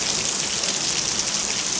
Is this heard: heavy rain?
yes